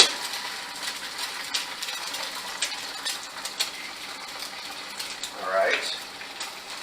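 Eggs frying in a hot pan give a steady bright sizzle throughout, with a few small clinks and a short spoken remark near the start.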